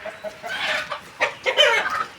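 Chickens cluck in a busy, uneven stream of close, fairly loud calls, with several birds overlapping in quick bursts and no talking.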